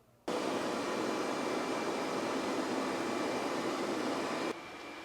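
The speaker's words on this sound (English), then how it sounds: "we are going to fire up my very favorite machine of the whole tour, the air column" An air column seed cleaning machine separating balsam root seeds on a native seed farm starts up abruptly with a loud, steady vacuum-like roar. It drones evenly for about four seconds, then drops to a quieter hum.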